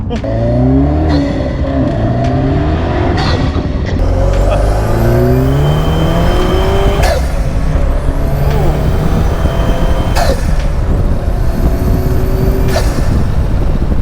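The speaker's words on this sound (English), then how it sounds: "It muffled the blow off more, and you couldn't hear the turbo as much." A turbocharged engine revs hard again and again, each rev ending in a sharp hissing blow-off burst, loud and close, with no talking.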